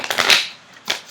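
A deck of romance oracle cards by Doreen Virtue is shuffled by hand in two close, crisp riffling bursts separated by a brief pause.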